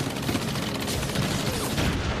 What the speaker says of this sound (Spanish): las fuerzas especiales emitían el sonido de disparos a través de altavoces para